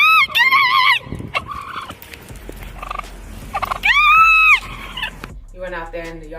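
A live turkey gobbles in a yard in loud bursts of warbling calls, with people talking and laughing between and around the calls.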